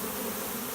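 A honeybee swarm buzzes around a hand, a dense, steady hum of many bees close by for a brief moment.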